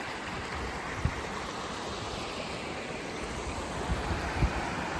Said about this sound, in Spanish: Y el agua viene de por allá